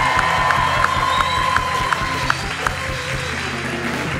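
Studio audience cheering and applauding a guest on a live talk show, a crowd roar with rhythmic clapping and a repeated shrill whistle-like cheer, fading somewhat toward the end.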